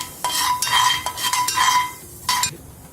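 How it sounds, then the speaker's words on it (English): Fennel seeds being stirred into pepper chicken in a pan, several quick scraping spoon strokes with a faint sizzle underneath, close and without speech. "Mix it well."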